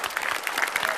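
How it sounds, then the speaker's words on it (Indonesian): Studio audience applauding on a televised evening talk show, a brief burst of many claps at even loudness, close and continuous with no talking over it. "Tepuk tangan dulu dong."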